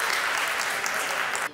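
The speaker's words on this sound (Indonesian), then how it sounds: "beri tepuk tangan yang meriah untuk Dignitiku" An audience bursts into a short, loud, dense round of applause that cuts off abruptly at the end.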